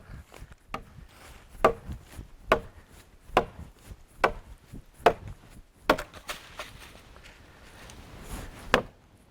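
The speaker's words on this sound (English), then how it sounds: "If you actually had to go out and chop timber down like that, you'd work up a sweat" A knife chops into timber in repeated sharp woody strikes, roughly one a second, close and distinct over a quiet background with faint rubbing between blows.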